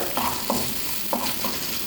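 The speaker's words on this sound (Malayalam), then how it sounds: "അര സ്പൂൺ ജീരകം ഒരു ബേ ലീഫ് ഒരു ചെറിയ സവാള നുറുക്കിയത് ഇത് നമുക്ക് നന്നായിട്ട് വഴറ്റിയെടുക്കാം" Cumin seeds, a bay leaf and a chopped onion sautéing in hot oil, a continuous close sizzle broken by a few soft stirring scrapes, with no voices.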